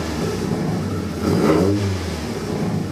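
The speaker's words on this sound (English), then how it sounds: "so now the throttle responds nicely" A 1983 VW Rabbit GTI engine with newly programmed fuel injection idles, then gets a single quick throttle blip that rises and falls smoothly before settling back to a steady idle, heard up close.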